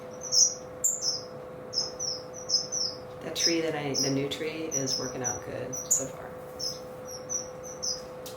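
Finches in an aviary give repeated short, high chirps at a steady pace, close by, while a person talks over them briefly partway through.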